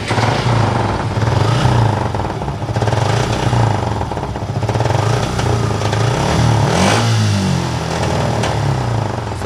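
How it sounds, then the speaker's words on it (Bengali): A second-hand Suzuki Gixxer SF motorcycle engine runs close by, idling with a steady mechanical clatter and swelling in a few short revs before dropping back, with no talking. "আপনাদেরকে একটু ইঞ্জিনের সাউন্ডটা শোনাবো"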